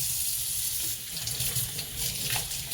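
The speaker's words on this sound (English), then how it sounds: "I am going now wash my hands before I make rice." Hands are washed under a running kitchen tap before cooking rice, a steady loud rush of water with shifting splashes as the hands move through the stream.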